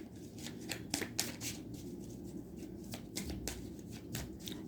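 A deck of tarot cards shuffled by hand, with rapid riffling and slapping bursts repeating steadily and close up.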